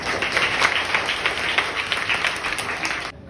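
Steady, dense applause from an audience at an Urdu poetry mushaira for Urdu Day, loud and sustained for about three seconds before cutting off abruptly.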